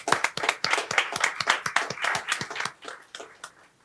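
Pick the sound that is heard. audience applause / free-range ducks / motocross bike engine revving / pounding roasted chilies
audience applause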